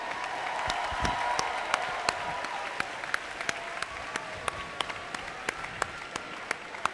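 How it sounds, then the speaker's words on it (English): Crowd applause for the competing teams at a 2015 regional robotics tournament, a dense continuous clapping roar in a large hall, with a few sharper individual claps standing out near the microphone. "let's have a round of applause for all the teams competing here today"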